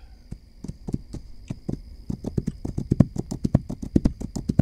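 Horse hooves clip-clop in the video game This Land is My Land, starting as a slow walk and quickening into a dense, steady trot over a faint constant hum.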